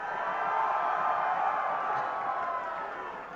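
A large esports grand final crowd cheers for TSM, a steady, broad roar of many voices that holds evenly throughout and fades slightly at the end.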